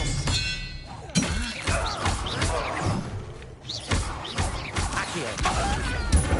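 Expelliarmus disarming spell cast in Hogwarts Legacy, with thuds, whooshes and crashing impacts layered over a busy game soundscape, loud and close, with a voice speaking at times.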